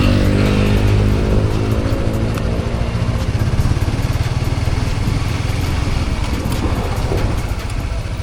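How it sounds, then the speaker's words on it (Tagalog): A Honda CBR150 motorcycle, with a CRF250 cam chain tensioner fitted in place of the original, idles close by at a steady, even beat. The engine runs loud and unbroken, with no rattle. "So kondisyon na ulit ang motor natin guys. Wala nang ingay."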